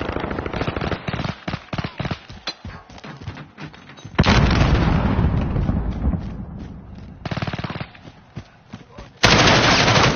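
Gunfire and explosions in a video game battle: rapid, loud bursts of close automatic fire give way to heavy, sustained blast-like roars, with brief gaps between volleys.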